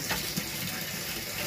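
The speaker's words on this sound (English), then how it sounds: "I'm going to run the hot water on my dog shower here" Hot water runs steadily from the tap of a dog shower while an aquarium is being set up, a close, continuous hissing gush with no talking.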